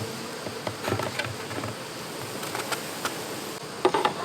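Honeybees around a hive during fall feeding with sugar syrup, a faint close buzzing that rises and falls as individual bees fly past, with small taps and rustles and no talking.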